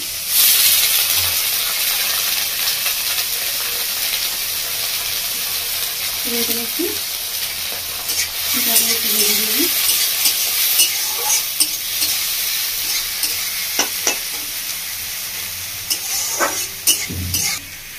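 Onion, green chilli and garlic leaves fry in a pan with a steady, close sizzle and hiss, punctuated by occasional stirring scrapes and clicks throughout.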